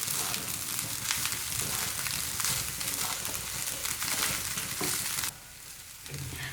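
Egg fried rice with spring onion leaves stir-fried in a hot pan, a loud, dense, continuous sizzle with stirring that drops away briefly near the end before resuming.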